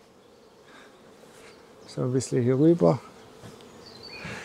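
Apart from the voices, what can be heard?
honeybees buzzing at the hive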